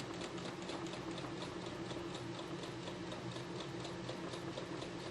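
Sewing machine stitching quilt fabric in a steady, continuous fast mechanical whir with an even rapid ticking pulse, close and unbroken, no voices.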